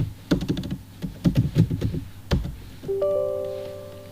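Quick keystrokes on a computer keyboard type a short command in clustered taps, close and clear, followed by a sustained electronic tone.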